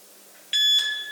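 Electronic shot timer beep during dry-fire pistol practice: a single loud, sustained high tone starting abruptly midway and holding to the end, no talking.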